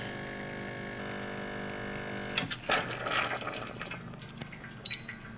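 A Lelit Mara X espresso machine pulling a shot gives a steady pump hum that gives way to gurgling, spluttering liquid sounds and a few clicks, close and moderately loud.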